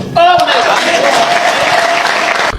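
Audience applause breaking out suddenly and continuing as steady, dense clapping close by, with a voice briefly over it.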